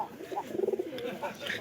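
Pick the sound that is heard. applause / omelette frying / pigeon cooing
pigeon cooing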